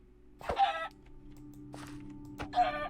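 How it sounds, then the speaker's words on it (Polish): Minecraft chicken clucking in short, quiet bursts, two separate squawky clucks about two seconds apart, with no talking. "To jest kurczak? Tak, to jest kurczak."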